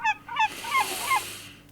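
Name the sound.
seagull call in the video game Passive Kingdoms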